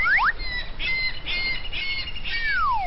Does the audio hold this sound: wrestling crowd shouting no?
no